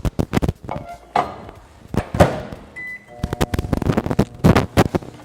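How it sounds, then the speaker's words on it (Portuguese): Microwave oven heating chocolate for a lemon tart egg, with a door clunk, keypad beeps, a short tone and handling knocks close by in a kitchen, no talking. "mais uma vez vou levar 30 segundos ao micro-ondas"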